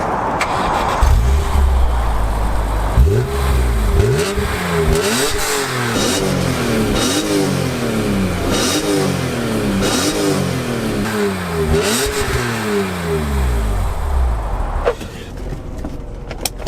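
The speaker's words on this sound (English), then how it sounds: "Have a little listen to the engine start from the back." BMW E46 M3 engine cranks and catches, then revs in a series of rising and falling sweeps, loud and close from the rear of the car, and settles back toward idle at the end, with no talking.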